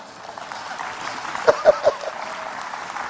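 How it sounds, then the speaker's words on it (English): A few sharp claps from a church congregation during a sermon, three quick hits close together over a low murmur of room noise. "Clap."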